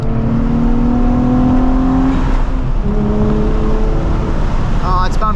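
Nissan 350Z accelerating, heard from inside the car as a steady engine drone rising in pitch, with a gear change partway through and continuous road noise, loud and close.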